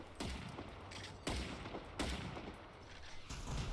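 Kotonax rifle fire at hunter machines in Generation Zero: three heavy, booming shots spaced roughly a second apart, each with a long reverberant tail, over constant loud in-game background noise.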